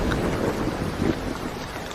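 Steady rain falls in a dense, even hiss with a low rumbling bed beneath it, constant and fairly loud throughout, with no voices.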